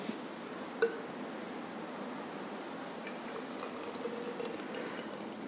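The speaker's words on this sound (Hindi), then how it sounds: "और दूध इसमें डालते हैं" Milk poured into a bottle, filling it to the same level as one filled with water, during a home test for milk adulteration; a steady, quiet pouring stream runs throughout with no talk.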